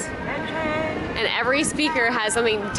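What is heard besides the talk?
None of the usual background noises is heard.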